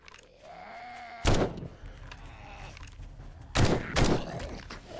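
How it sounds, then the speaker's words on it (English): A tactical assault rifle fires in the game 7 Days to Die: three sharp, loud gunshots, one near the start and two close together later, over a background of game ambience and creature bleats. "Three shots."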